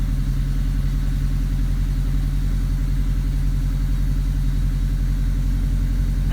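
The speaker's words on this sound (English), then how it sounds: "Now while the engine's warming up," Turbocharged Subaru EA82T flat-four idling steadily after starting, a continuous low engine drone with a smooth, even rumble and no talk over it.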